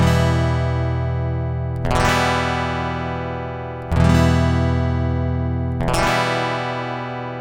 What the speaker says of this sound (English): The acoustic guitar.